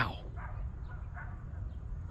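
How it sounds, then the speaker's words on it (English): A few faint, high-pitched yaps from small dogs in the distance, spaced irregularly over a low rumbling background. "Besides those dogs yapping"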